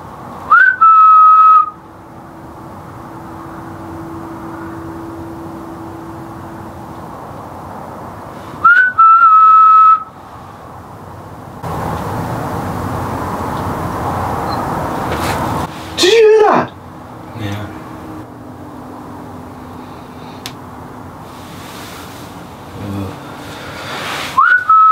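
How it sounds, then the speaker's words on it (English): A person whistles short bright calls inside a 6,000-year-old stone burial chamber, three separate whistled phrases spaced apart over steady background noise and wind-like hiss. "we're going to whistle and hopefully you'll whistle back."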